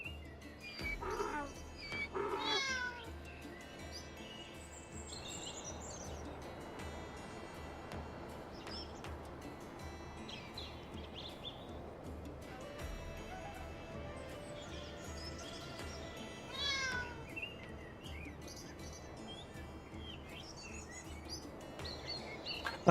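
A cat in the city-building game Pompeii: The Legacy yowls loudly at night in a few drawn-out meows, with a softer ambient bed and faint bird-like calls between them.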